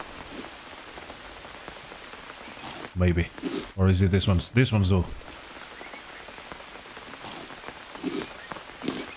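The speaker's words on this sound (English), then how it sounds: "I figure that since it's raining and all" Steady rain patters on surfaces throughout in the video game Green Hell, soft and continuous, while a person speaks briefly partway through.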